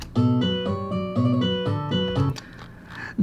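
A guitar plays a quick sextuplet run of bright, distinct notes in steady succession within a solo, then stops and leaves a short ringing tail.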